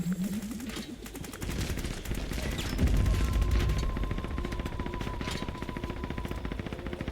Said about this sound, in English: And they're trying to shoot down the spaceship.